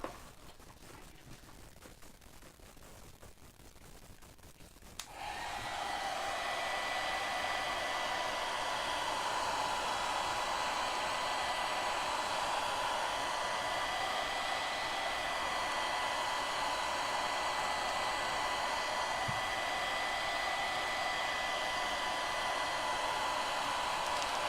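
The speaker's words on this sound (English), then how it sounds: "So let me get the blow dryer." A blow dryer, used to dry a handmade snowman snow globe, switches on after a few quiet seconds and then runs continuously as a loud, steady whir with no voices over it.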